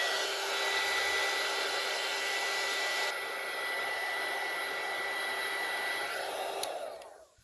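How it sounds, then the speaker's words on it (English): A heat gun blasts air to dry alcohol ink on polymer clay, a loud, steady whooshing whine held for about six seconds before it switches off and fades. "Just blast it with the heat gun real quick"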